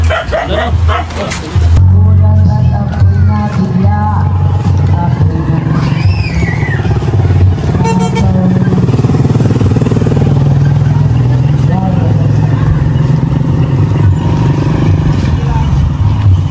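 Motorcycle ride with a steady engine rumble and road noise running throughout, briefly joined by a dog barking in the background.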